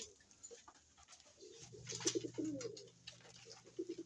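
Pet fancy pigeons outdoors give a few soft, low coos, faint and close together, against quiet surroundings with no talking.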